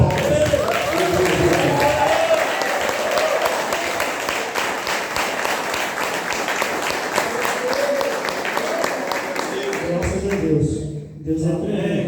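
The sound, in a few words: church congregation applause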